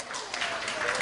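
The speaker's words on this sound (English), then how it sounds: "Let's give a round of applause." An audience breaks into applause at a youth leadership event, a brief, moderately loud burst of many hands clapping that swells quickly and carries on steadily.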